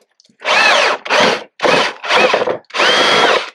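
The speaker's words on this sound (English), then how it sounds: "get a large step bit in there" A large step drill bit boring through the skid plate of a Can-Am Outlander 1000R XMR ATV, five loud, close whining bursts separated by short pauses.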